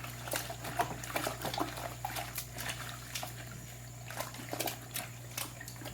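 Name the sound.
hot soapy felting water being handled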